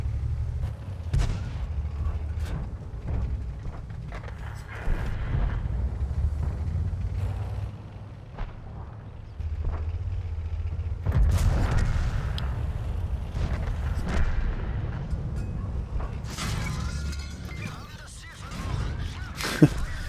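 Tank cannon shots from World of Tanks sound as heavy booms amid rumbling engine noise and battle clatter, with a few sharp impacts and talk throughout.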